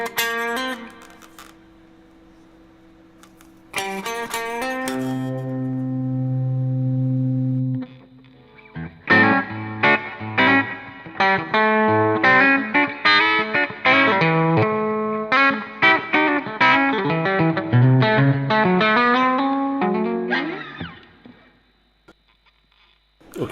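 An electric guitar with a vintage-wound bridge pickup plays through distortion. It opens with sustained chords and held notes, then moves into a busy run of picked riffs and single notes, ringing with reverb before cutting off near the end.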